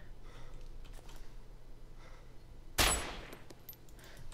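A single loud burst of gunfire in the video game Arma 2 DayZ cracks out near the end, standing alone over quiet ambient background.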